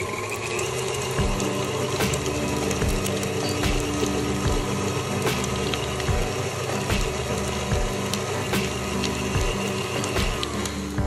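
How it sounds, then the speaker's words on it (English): A KitchenAid stand mixer beats softened cream cheese at medium speed, giving a steady whirring motor drone with a rhythmic clicking churn that carries on unbroken and fairly close. "I'm going to be using my KitchenAid, and I'm going to beat it at a medium speed"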